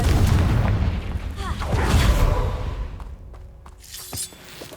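A Confringo blasting spell in Hogwarts Legacy goes off with a heavy booming burst and shattering crackle, then a few smaller pops and impacts trail off.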